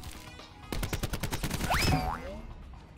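Rapid automatic gunfire from the video game Black Ops 4 rattles in a quick burst of about a dozen shots, loud and close, with whooshing game effects over it.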